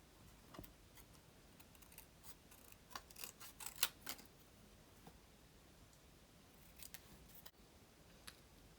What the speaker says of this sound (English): So just cut it nice and close.